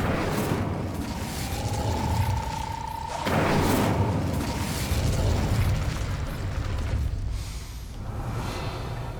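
Incendio fire spell cast in Hogwarts Legacy, a rising magical tone followed by a loud burst of fire that swells into a sustained roaring rumble and slowly fades.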